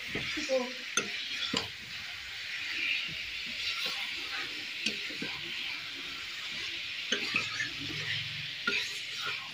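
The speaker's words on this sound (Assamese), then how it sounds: "এতিয়া মই মছলাৰ লগত মাংসখিনি খুব সুন্দৰভাৱে মিক্স কৰি ল'ম" Mutton being stirred with spices in a pan over heat: a soft steady sizzle of frying runs throughout, punctuated by irregular scrapes and clinks of a utensil against the pan, fairly quiet and close.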